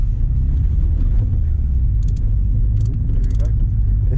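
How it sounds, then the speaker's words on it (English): A car passes on a race circuit, heard as a steady low engine rumble from inside another car, with a few brief crackles and ticks over the continuous drone. "we'll wait for this other car to come past"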